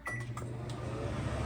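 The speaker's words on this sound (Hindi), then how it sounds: "ये नान आ गए हमारे फ्रोजन नान, इनको हम माइक्रोवेव में गर्म करते हैं।" A microwave oven heats frozen naan with a steady, close mechanical hum and a couple of faint clicks at the start, with no voices.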